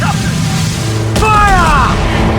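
Ship cannon fire in Assassin's Creed IV Black Flag, a broad booming blast at sea landing partway through, followed by a short shouted voice over constant ocean and wind noise.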